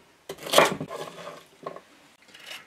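Celery being cut with a knife on a board while preparing a prairie chicken pot stew: a few separate close knocks and scraping chops, the first loudest, then softer taps trailing off.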